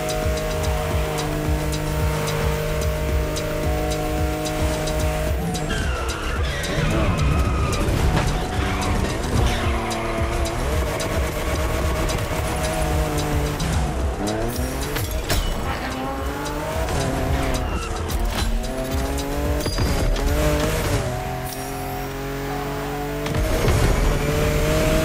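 Toyota GR Supra with a 349 hp engine drifting in the racing video game The Crew Motorfest, engine revving and tires squealing continuously and loudly under a layer of steady game music, with no voices.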